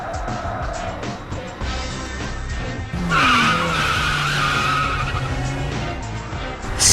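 Tires skid and screech in a car crash in the Burnout racing video game, a loud, close squeal sliding through several seconds over engine noise and impact rumble.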